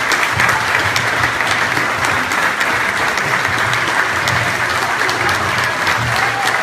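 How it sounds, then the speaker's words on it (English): Sustained audience applause for the four finalists at the 2015 Lebanon Idol singing competition, a dense, steady wash of many hands clapping throughout, loud and close with no talk over it. "Let's give a final round of applause to all four of these great competitors."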